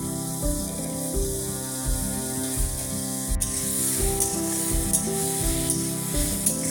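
Bottle gourd kofta masala with a pinch of sugar sizzles and spits in a hot pan, a dense steady hiss with rhythmic scraping stirs layered throughout, close and fairly loud.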